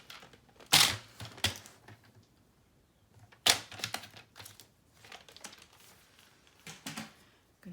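Paper being trimmed on a cutting mat for a file folder mini album, with a few sharp crisp cuts and slices separated by quieter handling and rustling, close by.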